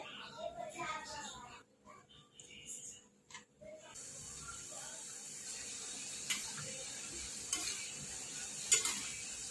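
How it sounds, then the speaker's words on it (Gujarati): Namak para dough pieces frying in oil over a low flame, a steady soft sizzling hiss with occasional sharper crackles, preceded by a person talking. "ધીમા તાપે આપણે તરાવી દઈશું"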